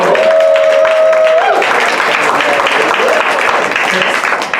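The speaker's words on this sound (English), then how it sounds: "Travelers, I need a round of applause for our game master for the evening, Ike Brown!" An audience at an improv tabletop role-playing show breaks into a full round of applause, a brief whistle rising at the start before the clapping swells and holds steady.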